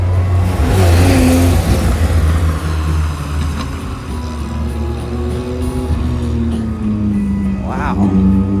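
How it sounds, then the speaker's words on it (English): An old Porsche drives past at a beach-town street festival, its engine revving with a rising and falling whir, loud and close amid crowd noise, with people talking over it. "Was that an old Porsche?"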